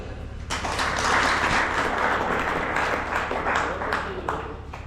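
An audience applauding steadily for several seconds at a book launch event, a dense wash of many hands clapping at once in a large room.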